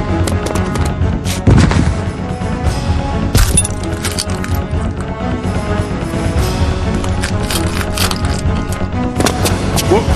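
Gunfire in a Resident Evil 2 remake built in UDK, sharp cracking shots scattered over a loud, dense mix of game sound and music, with a strong hit early on.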